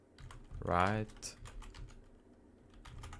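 Computer keyboard typing while fixing freezing in Valorant: a close burst of quick key clicks, with a single short spoken word over it and lighter taps trailing afterward.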